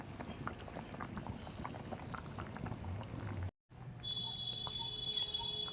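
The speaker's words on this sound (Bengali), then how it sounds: "এখন ফুটছে অতটা বুঝতে পারা যাচ্ছে না" Chicken masala curry bubbles in a pot with a soft, steady simmering burble; after a brief cut it continues under a thin, sustained high tone.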